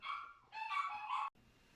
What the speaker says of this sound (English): Oh, there's my dogs.